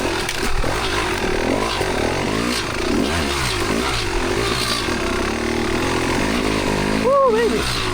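A 25-year-old Kawasaki KX250 two-stroke dirt bike engine revs and buzzes steadily while riding a tight trail section, loud and close, with a rider's voice briefly over it.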